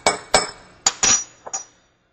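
A spoon clinks sharply against a glass or bowl while milk is stirred in a kitchen, five distinct taps in uneven rhythm, close and clear, then silence.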